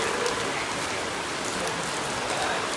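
Heavy rain pours down in a Vietnamese countryside village, a dense, steady broadband roar of drops on surfaces that never lets up, loud and close.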